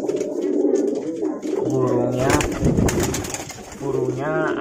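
A pigeon gives repeated soft, throaty coos at close range, rising and falling in short phrases, with someone talking over and between the calls.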